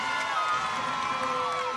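A high school basketball crowd at a Burke Bulldogs versus North Charleston Cougars game roars with steady cheering and shouting throughout, while a commentator talks over the noise.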